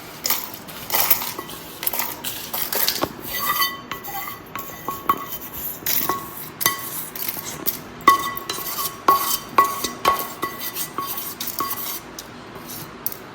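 Roasted cumin and fenugreek seeds are scraped from a pan into a bowl for a gongura pachadi, giving repeated close clinks, scrapes and rattles of metal utensils and cookware in an irregular rhythm, with no talking.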